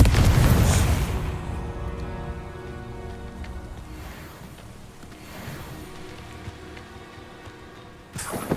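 A Confringo spell explosion in Hogwarts Legacy: a loud booming blast at the start that decays into a long crackling, rain-like rumble, with another sharp burst near the end and a steady music bed beneath.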